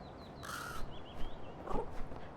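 A crow caws in the video game Little Kitty Big City, giving one harsh, fairly loud call and then several short, fainter croaks over a steady ambient game background, with no talking.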